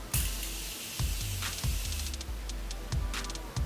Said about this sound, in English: the way it sprays out is perfect